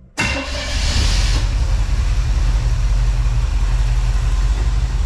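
A 1980 Chevrolet Camaro engine cranks and catches, then settles into a loud, steady, rumbling idle that holds evenly to the end.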